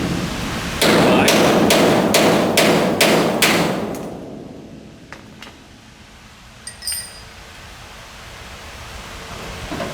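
Several sharp, evenly spaced hammer strikes on a metal chisel cutting through a car body spot weld ring out in quick succession, then fade into quieter scraping and a couple of lighter taps.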